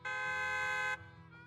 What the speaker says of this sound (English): A loud honk echoes as several trucks with the Leaps and Bounds logo drive into the open area.